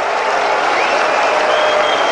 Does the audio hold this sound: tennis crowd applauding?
yes